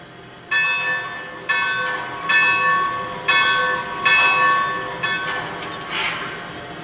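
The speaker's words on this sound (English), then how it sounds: "I'm going to go ahead and play the whistle for you." Whistle of a Y-3 Legacy 2-8-8-2 model steam locomotive played through its speaker, a harmonic steam-style whistle sounding in a series of about six short, evenly spaced blasts, loud and close.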